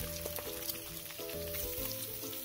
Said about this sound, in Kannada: 3 ಚಮಚ ಕಡಲೆಕಾಯಿ ಎಣ್ಣೆ, 1/2 ಚಮಚ ಸಾಸಿವೆ ಮತ್ತು ಕರಿಬೇವು, ಹೆಚ್ಚಿಟ್ಟಿದ್ದ ಈರುಳ್ಳಿ ಇದನ್ನು ಬಿಡಿಸಿ ಹಾಕೋಣ